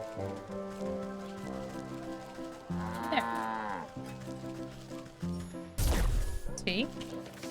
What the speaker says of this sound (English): I'm pretty sure there's a cow in the market that I can reach.